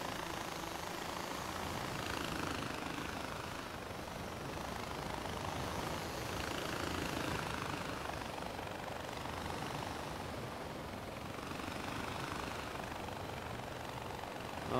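A helicopter engine and rotor in the Far Cry 4 video game on PS4 produce a continuous broadband whirring drone at a steady, fairly loud level throughout, with no voices.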